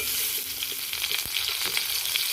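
Raw green mangoes frying in a pan for a sweet-sour-spicy pickle, a dense, loud sizzle with steady crackle and occasional stirring scrapes, close and continuous.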